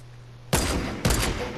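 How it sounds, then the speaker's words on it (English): Two sharp bursts of gunfire from the video game Fortnite, about half a second apart, loud and close with a brief ringing tail after each, following a quiet hum. "Ah, both of our bullets missed."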